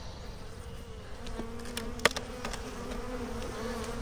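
Honey bees buzzing in an overwintered Lyson mating nuc, a continuous close, agitated hum with a few individual bees whirring past.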